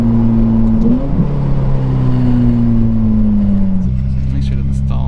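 A Ferrari 488 engine in race mode on its first test drive after a breakdown runs with a steady, close droning hum that shifts pitch up and down through a few slow changes, with voices talking over it.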